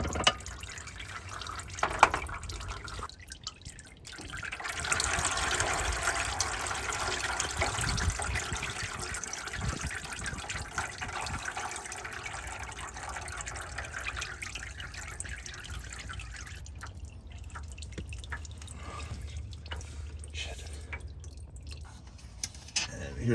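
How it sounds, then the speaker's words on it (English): Transmission fluid draining from the pan of a Mercedes GLS X166 into a catch container, a continuous close trickle and splash lasting throughout, with faint movement noises at the start and end. "let this fluid finish draining"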